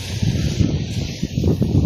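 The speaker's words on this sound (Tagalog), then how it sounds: "Ito lumalakas na naman ang hangin" Strong wind gusting steadily outdoors on an island shore, a continuous rough low roar with buffeting bursts against the microphone, no voices.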